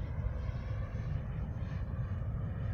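An FMS Avanti 90mm electric ducted-fan RC jet on 8S power climbs straight up, a faint, steady rushing whine heard from a distance.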